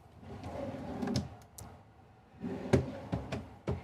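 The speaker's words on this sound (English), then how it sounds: "full extension drawers in here. You can see these are solid wood drawers, very stout, and of course soft closing as well" Solid wood full-extension drawers with soft-close slides in a Newmar Essex 4551 luxury Class A motorhome, heard as several soft thuds and sliding bumps at close range, spread across the clip with no talk.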